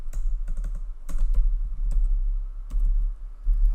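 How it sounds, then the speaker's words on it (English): Quick, close clicking of keys on a computer keyboard as an email address is typed, in irregular bursts over a steady low hum. "you're just going to type in the email of the person"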